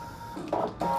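An electronic craft cutting machine works in short mechanical bursts, a whirring carriage movement followed by a louder buzzing pass, close and steady.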